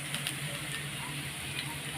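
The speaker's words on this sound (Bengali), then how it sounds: "আলুটা ভাজা হচ্ছে লাল লাল করে ভেজে তারপরে বসাবো" Potatoes fry in hot oil in a pan, a steady close crackling sizzle with faint spits and pops, no talk over it.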